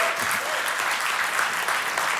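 An audience at a Microsoft Windows 10 and Surface announcement event breaks into steady, dense applause, a continuous wash of clapping filling the room.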